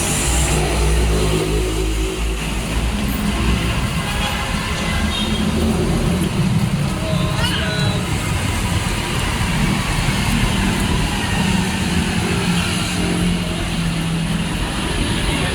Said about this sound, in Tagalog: sasakay ako ng bus